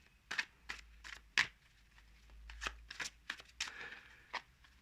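Tarot cards being shuffled close by, a quiet series of quick riffling and slapping bursts in uneven rhythm, with no talking.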